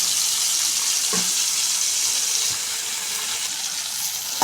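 Tomatoes cook down in a pan, making a steady, soft hissing sizzle with a faint clink or stir partway through, close and continuous.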